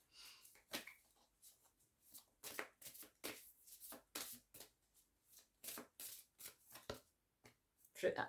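A deck of playing cards is shuffled over and over, giving repeated crisp riffling bursts with short pauses between them, close to the microphone and with no talking.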